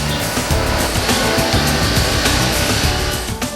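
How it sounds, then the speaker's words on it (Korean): A machine grinds wood into powder for natural wallpaper, a loud, continuous mechanical roar with a churning, pulsing low rumble and no voices. "지금 과정은 그 첫 번째인 나무를 분쇄하는 과정입니다."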